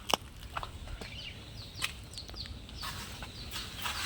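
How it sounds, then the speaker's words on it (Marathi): Chickens in a poultry shed on a village farm, a few scattered clucks and short calls over a steady low hum, faint and somewhat distant. "इथं कोंबड्या ठेवल्यात."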